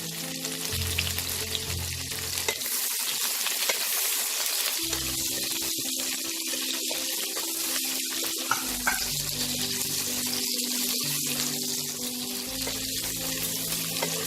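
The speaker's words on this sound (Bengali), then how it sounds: "পেঁয়াজটা লাল করে ভেজে নেব" Two chopped onions fry in a pan with cumin for a Kolkata-style chicken biryani. A steady, close hiss and sizzle continues throughout with a low hum underneath and no speech.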